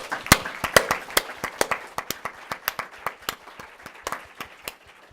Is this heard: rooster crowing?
no